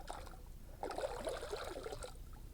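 Water is poured outdoors at a snowy winter cottage. A quiet splashing trickle lasts about a second between soft background stillness.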